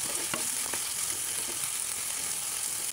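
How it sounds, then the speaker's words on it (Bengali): Marinated chicken pieces fry in hot oil in a pan, giving a steady, close sizzle with a few brief clinks from a utensil, and no voices. "এবার আগে থেকে ম্যারিনেট করে রাখা চিকেনগুলো এখানে দিয়ে দেব। কিছুক্ষণ সময় নিয়ে এগুলোকে ভেজে নেব।"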